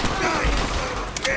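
Gunfire in the Call of Duty World at War campaign, a dense, loud burst of overlapping shots and booms filling the short stretch, with battle noise around it.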